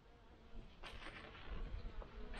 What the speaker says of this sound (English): Come on, bees, out of the way.